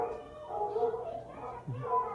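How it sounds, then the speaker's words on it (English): A dog barks in an animatronic stage show depicting a family home, short yips and whimpers mixed under ongoing dialogue from the show's characters. "concerned because you can hear dogs"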